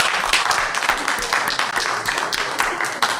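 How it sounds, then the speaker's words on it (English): Audience applause at a City of Commerce event, a dense steady patter of many hands clapping that carries through the whole stretch at fairly loud level, with faint voices mixed underneath. "Let's give them a round of applause, please,"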